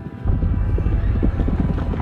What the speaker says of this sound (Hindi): ये घोड़े की आवाज कैसी है?